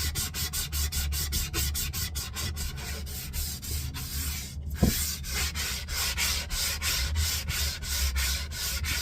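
A wire brush works the edges of a wooden GPO battery box in fast, even strokes, scratching loudly and close up, with a brief pause partway through.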